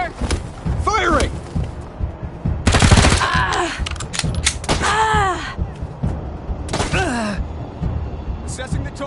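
Automatic gunfire from a firefight in the video game Wasteland 3, with several loud rapid bursts separated by short gaps, layered with in-game character voice callouts and metallic ricochet-like effects.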